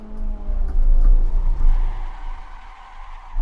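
A race car in the sim racing game Assetto Corsa snarls loudly, its engine pitch falling as it backs off, with rough tire noise before fading to a low rumble.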